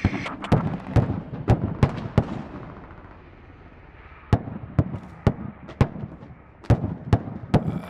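Artillery explosions in the tactical shooter Squad during a large mechanized infantry assault, a rapid series of sharp booming impacts in two clusters separated by a brief lull, loud and close with no talk.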